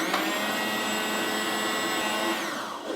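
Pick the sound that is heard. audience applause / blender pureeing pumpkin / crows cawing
blender pureeing pumpkin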